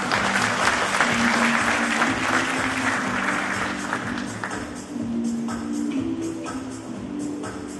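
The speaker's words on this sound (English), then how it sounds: "Let's give a big round of applause to Mr." Sustained applause from a convention audience at a regulatory forum, full and close at first, then thinning slightly toward the end.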